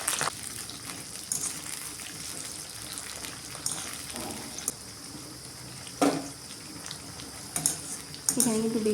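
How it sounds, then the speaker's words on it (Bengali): Capsicum pieces fry in hot oil in a pan, giving a steady, close sizzle with stirring clatters and scrapes throughout, a few louder spatters near the end. "ওই তেলে আমি দিয়ে দেবো ক্যাপসিকামগুলো হালকা ভেজে নেব।"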